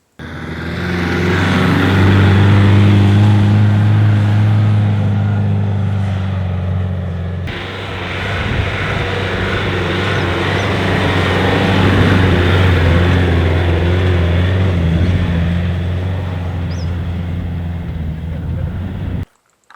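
A 4x4 on Falken Wildpeak MT01 mud terrain tyres driving on sand, with a loud, steady engine drone and tyre roar heard from inside the vehicle that rises and falls slightly throughout.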